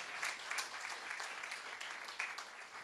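A church congregation claps together in praise, a steady dense patter of many hands, moderately distant and fairly soft, with a few louder bursts standing out.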